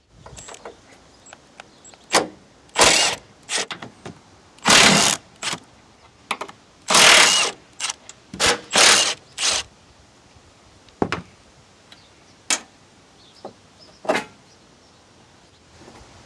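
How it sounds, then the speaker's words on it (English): A 13mm socket ratchet works the upper strut mount nuts on a Ford Five Hundred under the hood, giving bursts of sharp clicking and zipping ratchet runs separated by pauses, close and fairly loud. "remove the 4 nuts on the upper strut mount using a 13mm socket"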